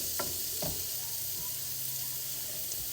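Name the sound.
butter and garlic melting and sizzling in a pan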